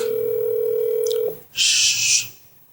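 A phone call being placed: a steady dial tone holds for over a second, breaks off with a couple of short dialing beeps, then a loud ringback or ringing tone sounds for about a second and fades.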